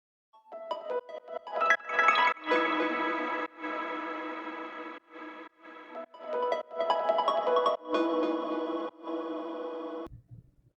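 A sparkly, grainy synth tone from an FL Studio melodic dubstep remix plays in chopped, stuttering phrases with rich shimmering harmonics and effects, fairly loud and alone, ending abruptly in a low rumble.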